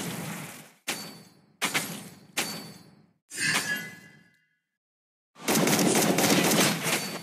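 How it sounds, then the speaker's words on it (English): Video game gunfire in several loud, sharp bursts separated by short gaps, then a pause of near silence before a longer sustained volley of shots. "Behold, my crescendo of bullets!"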